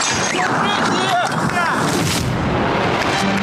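Chaotic, loud bursts of gunfire and shelling blasts mix with dense noise and a rising air-raid siren whine, with muffled voices underneath.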